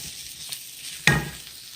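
Turnips and ramps fry in a pan while being stirred. A soft sizzle is broken by one sharp, close scrape-and-hiss burst partway through, then settles back to a quiet fry.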